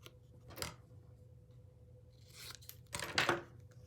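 Scissors trim a sheet of adhesive vinyl in two short snipping bursts, quiet and close, separated by a pause.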